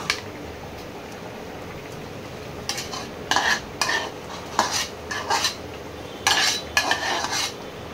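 Fried onions go into a simmering banana-blossom curry, followed by a run of bursts of spatula scraping and stirring against the metal pan over a low bubbling sizzle, close and fairly loud, with no talking.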